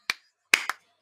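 A handclap is followed about half a second later by two quick, sharp claps close by in a quiet room as hands swat at a fly.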